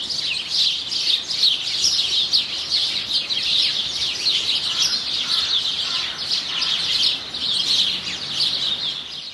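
A flock of house finches twitters and chirps continuously, dense overlapping bird calls filling the whole stretch at close to moderate distance, with no talking.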